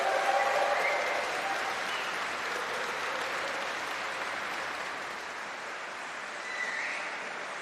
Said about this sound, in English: make some noise, say thank you.